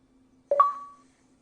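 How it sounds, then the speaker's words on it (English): A single short Xbox notification chime, a quick two-step rising tone that rings briefly and fades, heard up close against near silence. "Sorry, there's nothing I can do about the Xbox notifications."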